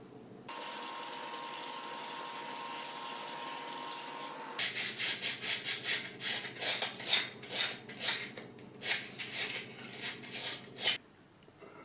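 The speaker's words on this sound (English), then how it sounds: "you want to sand the piece here until it fits snug inside here and about level" Hand sanding on a small wooden Christmas tree piece: after a steady low hum, a run of rhythmic rasping strokes starts, close and fairly loud, each stroke a short scratchy burst, with no talking.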